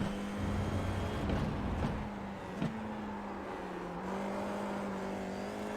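A Formula 4 race car on the track at Rudskogen Motorsenter holds a loud, steady engine drone from onboard, its pitch rising and dipping through gear changes and corners with no break.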